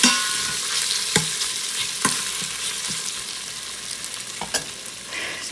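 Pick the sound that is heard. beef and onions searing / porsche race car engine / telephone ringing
beef and onions searing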